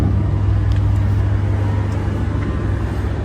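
A 1970 Ford F250 crew cab engine idles steadily and loudly up close, a strong low rumble with a constant hum throughout, no voices over it.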